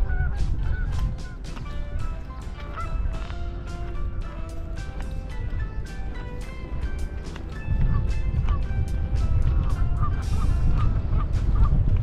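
Geese at a wildlife sanctuary in Marshfield, Massachusetts honk repeatedly and overlap one another, a close, busy flock calling on and off for about twelve seconds over outdoor ambience.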